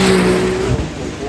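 An open-top Ferrari Speciale climbs the hill at the Goodwood Festival of Speed, its engine note rising and droning loudly close by while a commentator talks over it.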